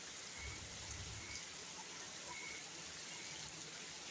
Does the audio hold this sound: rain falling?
yes